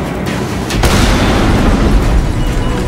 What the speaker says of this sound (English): Commissioner Loeb orders a bomb to be dropped on the building